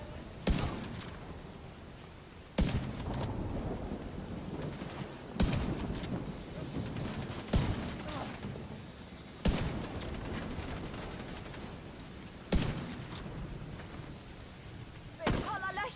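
Enemies firing guns in the video game The Division 2, with sharp bursts of gunfire recurring about every two to three seconds, each trailing into a decaying tail over quiet game ambience.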